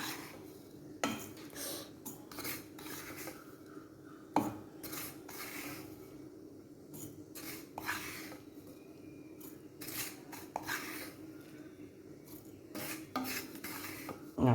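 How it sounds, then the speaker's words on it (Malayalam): A roasted coconut mixture is scraped from a pan into a mixer jar with a utensil, giving repeated irregular metallic scrapes, clinks and rasps close by, with short quieter gaps and no talking. "പകുതി എടുത്ത് അരയ്ക്കാം മിക്സിയുടെ ജാറിലേക്ക് ആക്കാം"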